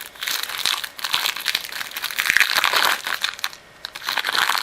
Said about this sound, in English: So here is a package of the paper.